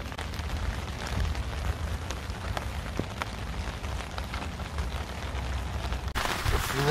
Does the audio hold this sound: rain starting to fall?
yes